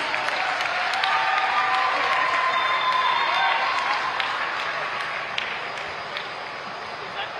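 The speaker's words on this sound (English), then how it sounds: "We want a loud cheer please." An audience at a closing ceremony in Goa applauds and cheers a minister: steady dense clapping from a crowd, fairly loud and sustained throughout, with faint voices mixed in.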